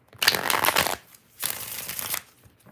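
Tarot cards are shuffled in two loud, close bursts of riffling, each lasting nearly a second, with a short pause between them.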